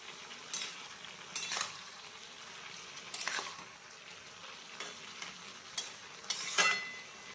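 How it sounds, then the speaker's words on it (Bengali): Bottle gourd cooking in its own released water in a kadai being stirred, with intermittent scraping strokes of a spoon against the pan over a low, quiet sizzle. "এবার লাউ একটু নেড়ে চেড়ে নেওয়া হবে"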